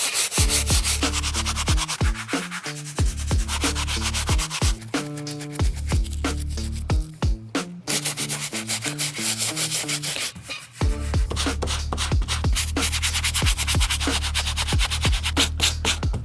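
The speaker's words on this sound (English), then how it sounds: "I am gonna be using our medium bristle brush. This is gonna give all of these parts a good scrub." Medium bristle brush scrubbing worn Jordan sneakers during a cleaning, a steady run of close, loud rubbing strokes in quick rhythmic bursts with a couple of brief pauses, no voices.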